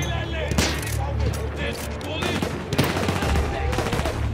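Video game gunfire in Battlefield 1 rattles in repeated rapid bursts and single shots, mixed with battlefield noise, while a voice is faintly present.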